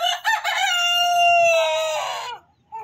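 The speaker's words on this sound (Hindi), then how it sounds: "तो मुर्गा भाई बोलने भी लग गया।" A rooster crows once in a long, clear, drawn-out call close by, fading at the end with a brief sound after a short pause.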